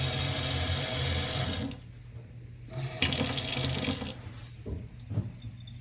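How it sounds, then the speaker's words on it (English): Water pours and splashes through a kitchen sink strainer in two bursts, with brief gurgling and drips in between, close and fairly loud. "Just going to pour the water through now"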